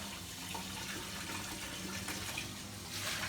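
Water pours steadily in a continuous splashing rush, like a stream into a container, close and fairly even throughout.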